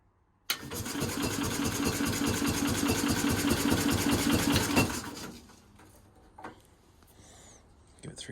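A 1969 Bolens FMC Husky 1053 garden tractor engine cold starts, catching abruptly and running loud and rough for about four seconds before cutting out, leaving quieter scattered knocks.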